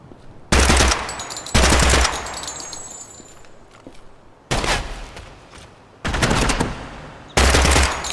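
Loud bursts of automatic machine gun fire in a shooter video game, several long volleys separated by short pauses, with ringing metallic clinks trailing after each burst.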